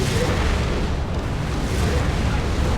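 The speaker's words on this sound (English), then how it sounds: "The las cannon shooting from my Baneblade" A Baneblade super-heavy tank fires its las cannon in the Dawn of War II: Retribution strategy game, a dense, loud, continuous roar of blasts and rumbling battle noise with no break for the whole stretch.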